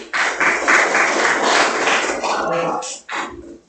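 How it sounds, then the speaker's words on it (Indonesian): Classmates in a high school classroom clap together after a group presentation, a dense steady burst of applause lasting a few seconds before tapering off. "Beri tepuk tangan buat."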